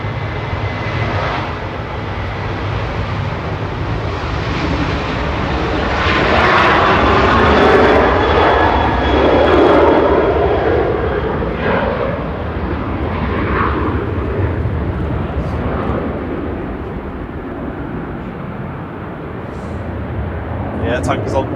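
Jet engines of a Boeing 737 roar loudly nearby, swelling to a peak in the middle and then easing off, with voices talking over the sound.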